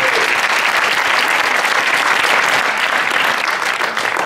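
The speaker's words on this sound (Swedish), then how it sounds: "Applåd" An audience at a talk applauds loudly and steadily, a dense wash of clapping that holds for several seconds before easing slightly at the end.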